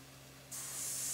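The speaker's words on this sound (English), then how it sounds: "I'm airbrushing while I" An airbrush bursts into a sharp, steady hiss of spraying paint after a brief quiet moment, close and continuous as mountains are painted.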